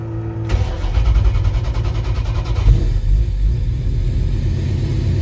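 A Ford GT40 Superformance replica in Ken Miles Daytona livery, heard from inside the car, cranks and catches, then settles into a deep, steady, loud idle rumble.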